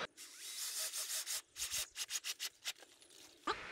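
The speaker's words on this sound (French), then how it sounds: "je vais découper des tasseaux qui vont me servir à maintenir le fond en place" Hand sawing of leftover wooden battens for a chicken coop: a rapid series of rasping back-and-forth strokes, close and fairly loud, starting after a brief pause, with no talking.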